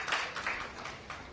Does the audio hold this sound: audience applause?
yes